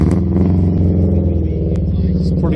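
A classic car engine idles unevenly at an old-car show, with a loud, steady low rumble and a slightly irregular, lumpy beat that carries through the whole stretch, up close and with no voices.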